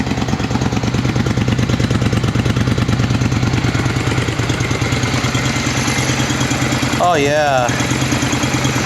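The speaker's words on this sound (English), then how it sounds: "you guys to hear what your stock pipes sound like before the modification" A motorcycle with stock exhaust pipes idles steadily and loudly up close in a rapid, even low thrum, and a voice briefly speaks near the end.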